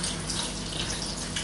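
Cold tap water pouring into a cooking pot over ham and artichokes, a steady, close splashing rush that holds evenly throughout.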